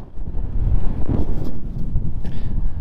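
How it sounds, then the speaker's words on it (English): Strong outdoor wind buffets the microphone in loud, low, rumbling gusts that swell and fade across the whole moment, with no speech. "Forgive me for this wind."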